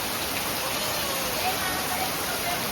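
Heavy rain falling steadily, a dense even hiss of downpour close by, continuous and unchanging with no distinct drops standing out.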